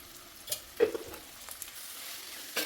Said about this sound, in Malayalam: അപ്പോൾ അതൊന്ന് ഉപ്പിട്ടിട്ട് വഴറ്റി വിടാം